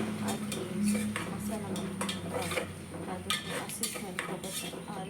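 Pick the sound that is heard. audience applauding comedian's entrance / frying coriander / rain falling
frying coriander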